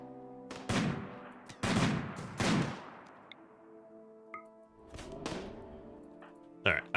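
Gunfire in the RimWorld video game, with several sharp loud shots and bursts that ring off and decay, separated by quieter gaps, and a final crack at the end.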